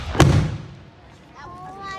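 A firework bursts close by with one sharp, loud boom, its rumble fading under faint talk, and a high whistling streak rises afterward.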